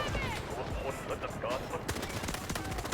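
Rapid automatic gunfire from the MK4 in the Delta Force shooter game, dense bursts of shots crackling over busy game noise and a talking voice.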